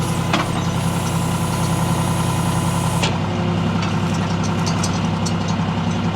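Brush-hauling equipment idles with a steady, close mid-pitched engine rumble and a knocking, even beat, with a brief clunk near the start and another partway through.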